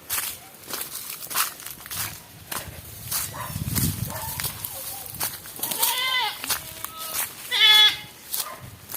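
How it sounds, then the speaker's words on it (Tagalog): Several goats bleat with wavering, nasal cries in the second half, amid footsteps and rustling outdoors in a forest near an abandoned house in Cebu. "May kambing"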